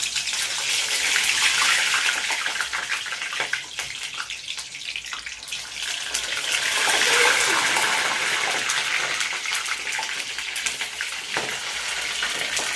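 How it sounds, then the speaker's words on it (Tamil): Cold food from the fridge drops into hot oil in a pan, setting off a loud, continuous hiss and crackle of spattering oil that surges and stays strong throughout, with no voices. "ஃப்ரிட்ஜில் இருந்தனால எண்ணெயில் தண்ணி படவும் கொஞ்சம் பயங்கரமாக தெரிக்குது"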